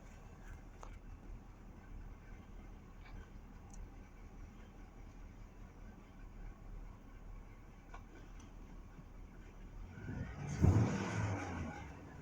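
Truck engine idling with a rough, troubled noise, a steady low rumble that swells into a louder burst near the end.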